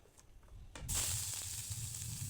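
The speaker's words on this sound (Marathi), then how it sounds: "इथे मी कढईमध्ये तेल टाकून कांदा त्यामध्ये टाकून थोडंसं सोनेरी रंग येईपर्यंत छान असं भाजून घेणार आहेत" Chopped onion drops into hot oil in a kadai and sets off a sudden, bright sizzle that keeps hissing steadily after a few quiet, faint clinks.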